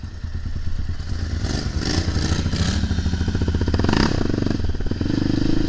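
Motorcycle fitted with Big Gun Evo R dual exhausts, airbox lid removed and a Dynajet PCFC, riding with a steady loud engine drone that rises in revs mid-clip amid wind and clatter.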